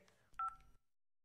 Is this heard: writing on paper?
no